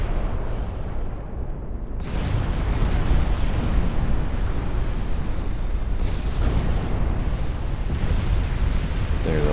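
Torpedoes striking warships in the naval strategy game Ultimate Admiral Dreadnoughts, heard as a dense, continuous roar of explosions with a heavy low-end rumble and two sharper blasts partway through, loud and unbroken, no speech.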